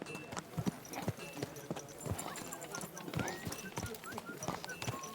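Horse hooves clip-clopping on the ground in Kingdom Come Deliverance 2, a steady uneven series of close, sharp knocks with faint ambient game sound behind them.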